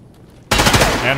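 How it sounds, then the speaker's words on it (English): Loud, sudden burst of rapid automatic gunfire in the video game Escape From Tarkov, cutting in after near silence and continuing as a dense, close fusillade. "And here we go, gunshots."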